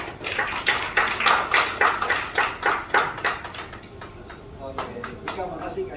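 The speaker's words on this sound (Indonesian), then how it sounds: "Mari berikan tepuk tangan yang meriah." An audience at an Indonesian launch event claps in quick, rhythmic bursts, loud at first and then thinning and fading toward the end.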